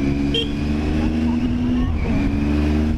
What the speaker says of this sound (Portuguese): Aí o carro vem no canto aqui.